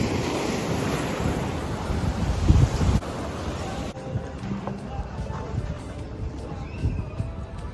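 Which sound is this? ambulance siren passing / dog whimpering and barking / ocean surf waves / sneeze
ocean surf waves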